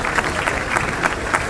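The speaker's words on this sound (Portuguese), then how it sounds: "Uma salva de palmas." Brief applause from the audience at a music career award ceremony, a steady close patter of clapping with a few sharper peaks, lasting only a moment.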